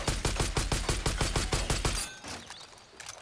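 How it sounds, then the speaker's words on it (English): Rapid automatic gunfire fired at an RV in Far Cry 5, a fast loud burst of evenly spaced shots lasting about two seconds before cutting off to quieter ambient noise. "I can just shoot at his RV and scare him that way"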